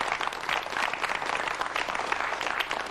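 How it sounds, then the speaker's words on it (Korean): An audience claps steadily and densely throughout, a full round of applause at a Korean talk-show style event about quick delivery services, with no voices over it. "박수 한번 터드리겠습니다"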